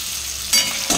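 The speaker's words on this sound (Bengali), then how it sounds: "দেখো আলুগুলো একটু ভালো করে ভেজে নেবো" Potatoes fry in a kadai with a steady sizzle, the crackle swelling louder in two brief bursts near the end.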